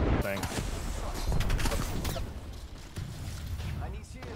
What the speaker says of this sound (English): The shots from a distance are definitely coming through strong